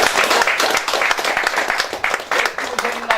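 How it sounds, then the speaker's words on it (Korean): A crowd at a monthly meeting of an education council in Jeonbuk applauds heartily, dense steady clapping filling the room throughout with a few louder bursts and faint voices underneath. "야, 다 힘찬 박수로 맞아주시기 바랍니다."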